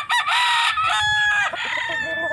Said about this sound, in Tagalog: Manok ko yan guys.